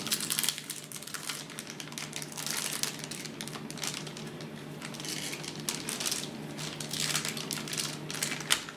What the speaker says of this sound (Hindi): ये स्टिकर आप निकाल सकते हैं।